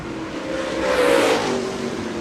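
Super Late Model race car on a qualifying lap at Shelby County Speedway, its engine droning steadily at a distance, swelling slightly louder as it passes, then settling back.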